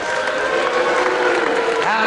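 Crowd applause for wrestler Mal Sanders at a televised wrestling bout, a steady continuous clatter of clapping throughout, with speech over it.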